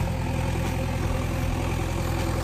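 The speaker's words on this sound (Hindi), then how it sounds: "चलिए अभी तो डोजर ही निकल रहा है अपने आप में।" A bulldozer's heavy diesel engine drones steadily as it works its way out of deep mud on a farm, a constant low rumble with no talk over it.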